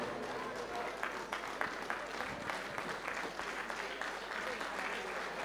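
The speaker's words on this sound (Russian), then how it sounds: "Давайте проводим аплодисментами наших боксеров." An audience at an international boxing tournament in Vladikavkaz applauds the boxers with steady, moderately loud clapping that runs through the whole stretch, while a voice talks faintly in the hall.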